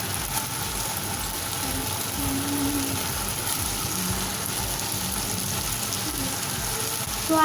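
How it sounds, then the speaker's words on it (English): Noodles frying in a pan for Hakka noodles, a continuous hissing sizzle holding level and fairly close, with no voices over it. "So I've added my noodles in now."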